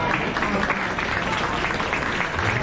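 Audience applause for 4-H and FFA youth exhibitors at a county fair beef show, a short burst of steady clapping from a crowd in an indoor arena.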